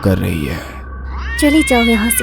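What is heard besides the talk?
cat meowing loudly at a window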